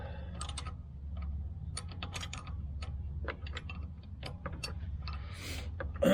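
Socket ratchet clicking as a bolt is loosened on a Mitsubishi Jeep during a Weber carburetor swap, uneven bursts of fine close ratcheting with a low hum underneath and a louder knock at the end.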